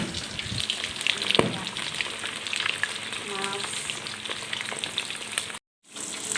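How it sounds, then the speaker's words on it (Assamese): Fish fries in a pan with a continuous crackling sizzle and scattered pops at close range, with a few clinks and brief stirring noises before a short gap. "মাছ কোনে ভাজি আছে? ময়ে ভাজি আছোঁ।"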